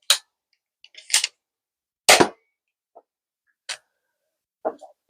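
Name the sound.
Adventure Force Pro foam dart blaster shooting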